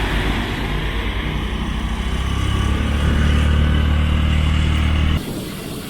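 A rented motorcycle rides along a road in Sri Lanka, its engine droning steadily with wind rush and swelling slightly before the sound abruptly drops near the end.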